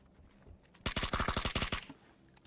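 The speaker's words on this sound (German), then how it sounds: "Hör auf zu Testschießen, Alter." In PUBG, a gun is test-fired in a rapid burst of about a dozen sharp, evenly spaced shots lasting roughly a second, loud and close against quiet surroundings.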